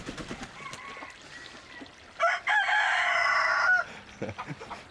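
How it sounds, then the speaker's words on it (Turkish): A rooster crows on a farm with hens around: one loud, close, drawn-out cock-a-doodle-doo lasting about a second and a half, framed by softer clucking and scratchy farmyard sounds before and after. "Bir de utanmadan ötüyor."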